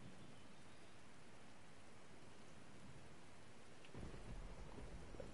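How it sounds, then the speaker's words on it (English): Steady rain in the survival game Open Country hisses across the whole clip, thickening into a heavier downpour near the end, with no voices. "See if there's enough water yet from this little bit of rain."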